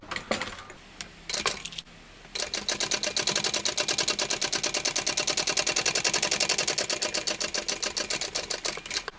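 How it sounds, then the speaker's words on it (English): A sewing machine stitches the base of a small tote bag at a 1/8-inch seam, running in a fast, steady rhythm of close, loud stitches for most of the stretch after a few short starts. "I'm going to sew this at 1/8 inch on the base."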